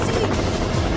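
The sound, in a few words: helicopter in a film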